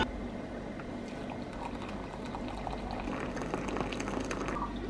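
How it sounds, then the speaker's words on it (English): Water bottle being filled at a water filter, a continuous close gurgling, trickling stream of liquid over a low background rumble. "I don't even know how much time I've spent standing here filling up these bottles"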